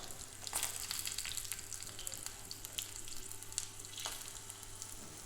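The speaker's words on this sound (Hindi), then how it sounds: "देखिए तेल एकदम अच्छे से उबल गया है।" Oil boils in a pan on the stove, giving a soft, continuous bubbling sizzle with faint crackles and no voices, heard at low volume throughout.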